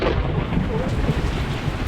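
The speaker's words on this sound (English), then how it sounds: "So we're in the middle of a lightning storm right now, and it's not pretty." Thunderstorm over a boat, with steady heavy rain and low rolling thunder rumbling continuously and loud throughout, no voices.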